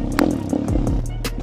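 Small YCF dirt bike engine revving and roaring close by on a steep off-road climb and descent, with loud bursts and a rough, uneven throttle over about a second and a half.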